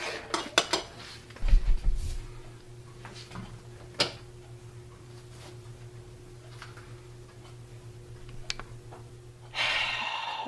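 Metal pan and kitchenware clatter in a home kitchen while scalloped potatoes are being made: a few sharp clanks and one heavy knock early on, then scattered light clicks and taps over a steady low hum, no talk.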